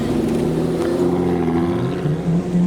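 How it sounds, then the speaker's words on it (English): An Aston Martin DB9 drives past at a car show, its engine a steady loud drone with a rising, harmonic-rich tone throughout, no talk over it. "Here comes the DB9 next up"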